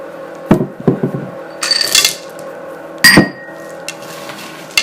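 A spoon stirring a thick melted mixture for cereal treats in a pot, giving a few sharp knocks and scrapes against the pot rim with softer scraping bursts between them, close and fairly loud, with no talking.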